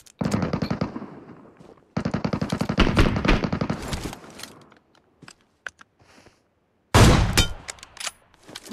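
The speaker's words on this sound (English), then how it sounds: "I'm getting shot from behind." Bursts of rapid automatic gunfire from behind in PUBG Mobile, two long loud sustained volleys, then scattered faint clicks, then another sharp burst close by, with no talk.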